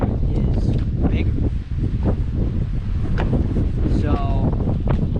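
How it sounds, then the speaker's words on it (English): Strong gusty wind buffets the microphone on a dock during a fishing outing, a constant loud roar with rustling bursts and a brief lull, while people talk in the background. "It's windy as heck."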